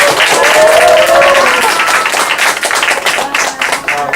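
An audience at a parenting lecture claps loudly and continuously, a thick wash of overlapping hand claps that swells and thins slightly over four seconds, with brief voice fragments mixed in.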